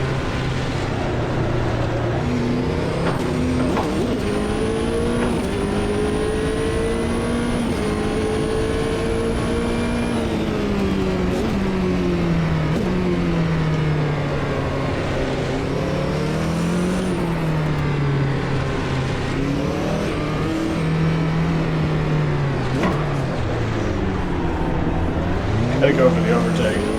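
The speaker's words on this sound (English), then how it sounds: "Let you guys hear the engine." GT1 race car engine in Automobilista 2 on the Long Beach street circuit, a steady loud drone rising and falling in pitch through shifts and revs for the whole stretch, with a voice talking over it.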